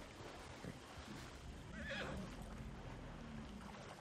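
A horse whinnies in Red Dead Redemption 2 free roam, a clear neigh rising mid-clip over steady game ambience with hoof clip-clop and water sounds around it.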